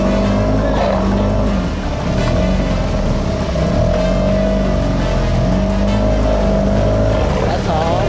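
Loud, steady drone of a motorboat engine running on water in the mountains of Cuba, with constant rumble and occasional splashing over the whole stretch.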